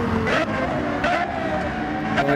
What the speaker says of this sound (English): Oh, I love the sound of that LFA